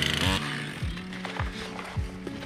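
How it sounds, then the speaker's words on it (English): A chainsaw engine runs close by, revving up and dropping back several times in a rough, repeating rhythm. "Just pull the chainsaw out and do what you can."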